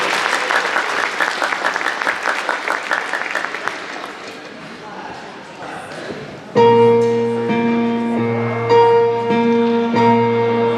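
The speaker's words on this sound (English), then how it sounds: "another special round of applause for Gabe for rocking the melody on that video too" Audience applause fills a school winter band and orchestra concert, a dense, rhythmic clapping that fades over several seconds before the band starts playing a tune.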